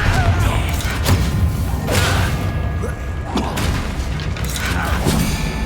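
A Confringo blasting spell explodes in the Hogwarts Legacy video game, a dense run of booming thuds and whooshing bursts over constant loud combat din and music with no pauses.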